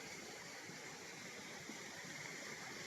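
A river flowing steadily near a farm lot by the sea, a soft continuous rush of water with no voices.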